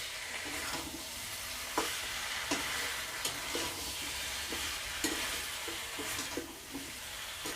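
Chicken is stir-fried in a pan with fried potatoes and jackfruit, a steady sizzle broken by repeated scraping knocks of the spatula, some regular and some irregular, close and moderately loud.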